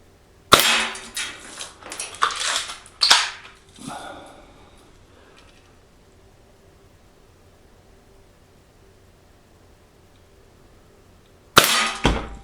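A Crosman Marlin Cowboy BB rifle fires zinc-coated steel BBs in a field: a quick run of sharp cracks and pops early on, then a long quiet stretch before another loud shot near the end.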